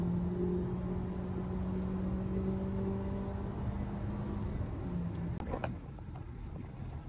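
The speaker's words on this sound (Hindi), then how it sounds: "गाड़ी की आवाज सुनो" A car cruising on an Abu Dhabi highway at about 140 gives a steady low engine and road drone mixed with wind rush, followed by a few knocks and clicks near the end.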